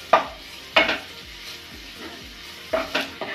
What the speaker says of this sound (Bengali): পেঁয়াজ, আদা, রসুন, কাঁচা লঙ্কা কুচি দেওয়ার পর ভালো করে নেড়েচেড়ে 2-4 মিনিট ভেজে নেব।